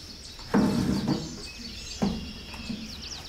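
Birds chirp incessantly around a rooftop garden on a hot Marrakech morning, a thin steady twittering layer with a few louder, nearer low thumps and rustles standing out briefly.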